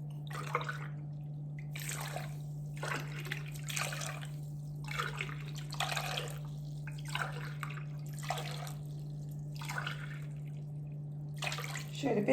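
Tap water runs steadily, poured into a pot with lemon slices for baklava syrup, under a constant low hum and a few irregular splashing surges.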